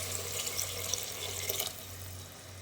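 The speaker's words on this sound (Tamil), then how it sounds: "நம்ம நாலரை டம்ளர் தண்ணி சேர்த்துக்கலாம்" Faint splashing of water poured into a pot for prawn biryani for a couple of seconds over a low steady hum, no talking.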